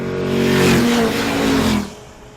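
A 2014 superbike revving as it rides along a street, a loud close engine roar climbing in pitch for about two seconds before dropping away.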